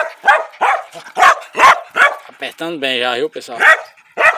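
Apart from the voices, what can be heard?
dog barking, eager to hunt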